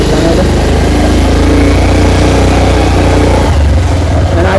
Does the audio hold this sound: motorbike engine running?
yes